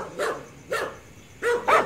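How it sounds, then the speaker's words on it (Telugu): Several dogs bark in separate short bursts, one near the start, another just before the middle and two close together at the end, fairly close and clear with a quiet background between. "చూతారా కుక్కలు నేరా లోపడ? ఒకటి రెండు కూడా కాదు, 4-5 ఉన్నాయి."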